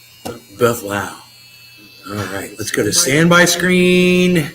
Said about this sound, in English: My nose hair trimmers.